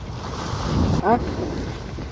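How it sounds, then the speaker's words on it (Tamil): Sea waves rolling in at the shore near the Karaitivu lighthouse, a continuous windy wash with a swell that builds and breaks midway, heard up close under strong wind noise. "கடலை காட்டுற மாதிரிங்க, இதுதான் கடல்."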